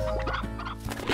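Chickens in the video game Slime Rancher give short clucking bursts, close and fairly loud over steady game background ambience, with no talk.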